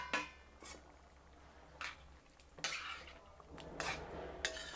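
Metal spoon scraping and clinking against a pan as thick curry gravy for a green peas chaat is stirred, several distinct scrapes at irregular intervals over a quiet background, close and fairly soft.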